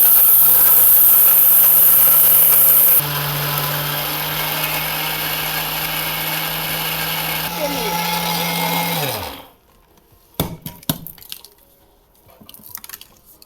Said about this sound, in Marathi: आता मी ही मिक्सरमधनं गऱ्यासारखी पावडर करून घेणार आहे